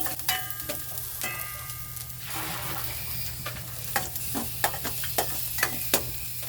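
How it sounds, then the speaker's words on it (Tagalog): Chopped onion and garlic sautéing in a hot pan, a steady crackling sizzle broken by sharp scraping taps of a utensil stirring against the pan, growing more frequent toward the end. "Gisa-gisa muna natin ang ating sibuyas bawang."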